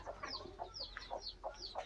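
Free-range country hens clucking softly in a quick, repeated series of short calls, fairly close and calm.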